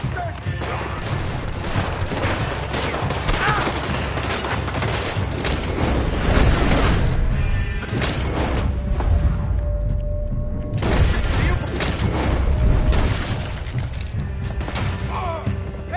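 Gunfire in Red Dead Redemption 2 crackles as loud, dense volleys of shots and booms over a chaotic shootout, continuous throughout, with shouting voices mixed in.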